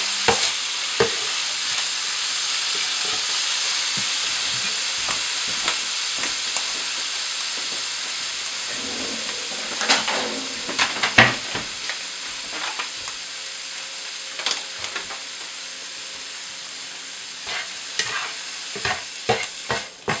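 Bacon frying in a pan, a steady broadband sizzle running throughout with scattered sharp pops and spatters, brief scraping stirs, no voices.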